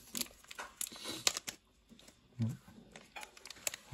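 Gacha capsule toy packaging being opened by hand, with soft irregular crinkles, tears and plastic rustles close to the microphone, quiet and sporadic.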